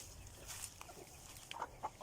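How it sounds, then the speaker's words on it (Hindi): Aseel and Mianwali roosters and other chickens on a small farm, giving a few faint, short clucks and calls at a distance against steady low background noise. "ये हमने यहाँ पर मुर्गे पाले हुए हैं।"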